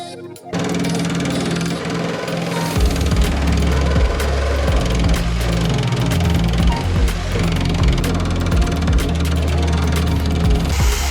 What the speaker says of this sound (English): Tools that we're using to cut these off today is the circular saw.